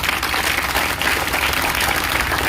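Students at an Independence Day classroom event clap together in a dense, steady burst of applause that stays close and fairly loud throughout, with no break.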